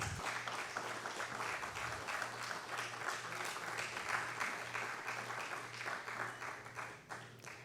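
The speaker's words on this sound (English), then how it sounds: "Dear audience, you can all join us in welcoming her with your round of applause." An audience applauds to welcome an artist at a talk, a steady, moderately distant round of clapping lasting the whole stretch with a faint hum beneath.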